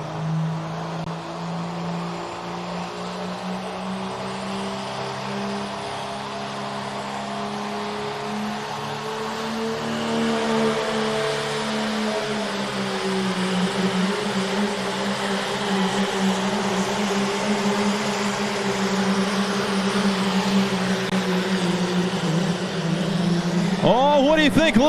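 Diesel pulling truck called Wound Tight, fitted with a 2.6-inch turbocharger, at a county fair pull in Little Valley, New York, revving in a long, steady, loud drone that builds gradually with a rising whine at the end, with an announcer talking over it.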